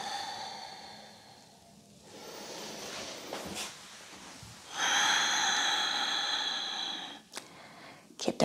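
Slow, audible breaths during a seated yoga twist, soft airy inhales and exhales with a louder sustained exhale near the end, close and quiet in a calm room.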